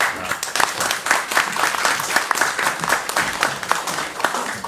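Audience applause at a state board of education meeting, a dense steady patter of many hands clapping close by, filling the short stretch without voices.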